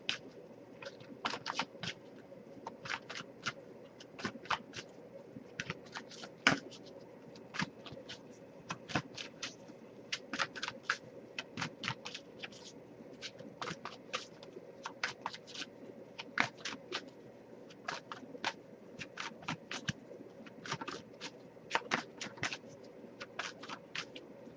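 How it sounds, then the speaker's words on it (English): A deck of oracle cards being shuffled by hand during a tarot-style reading, giving fast, continuous papery riffles and flicks that run steadily at close range with no voice. "let me keep shuffling, because we'd be here all day if I read all those"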